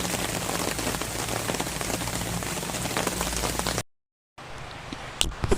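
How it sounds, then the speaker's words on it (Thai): Heavy rain pounds steadily on a tent pitched under a big tree at the Khlong Lan waterfall campsite, a dense close patter that cuts off abruptly and then resumes as lighter scattered drips. "ฟังเสียงฝนตกนี่ รู้สึกฟินนะครับ"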